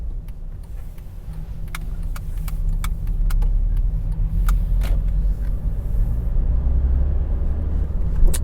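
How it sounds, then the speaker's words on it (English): A car drives through busy traffic around fast roundabouts: steady low engine and road rumble heard from inside the cabin, with scattered small clicks and rattles, continuous throughout. "driving around in busy traffic"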